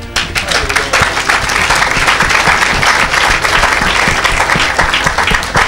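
A church congregation applauds and cheers for Jesus, with loud, steady clapping and crowd noise sustained throughout and some voices mixed in.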